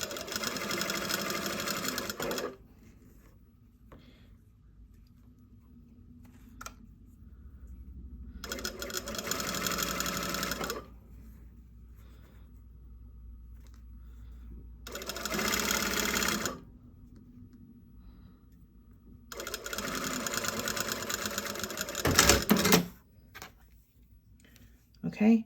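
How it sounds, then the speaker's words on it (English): A sewing machine runs a pin stitch along a bias finish on a seam in three separate loud whirring bursts, with quiet pauses between them. "I'm just going to fold it over and run a pin stitch along"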